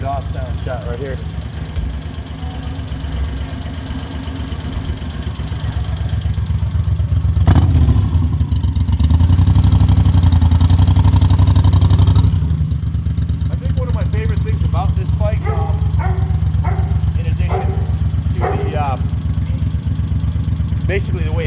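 A 2002 Moto Guzzi Stone Metal motorcycle idles with a low, loping exhaust burble, swelling into a louder rev for a few seconds midway before settling back, with someone talking over the later part.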